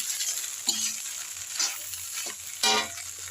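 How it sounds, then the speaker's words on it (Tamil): Rice being stirred into egg masala in a pan, a scraping, sizzling stir with a few louder scrapes standing out over a steady background hiss. "சாதம் போட்டாச்சுங்க. நல்லா கிண்டி விட்டுடலாம்."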